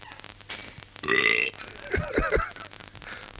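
Several loud, throaty belches in a busy radio studio, one long drawn-out burp followed by a quick series of shorter guttural ones, with faint background noise between them.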